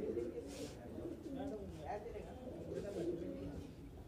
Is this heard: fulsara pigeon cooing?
yes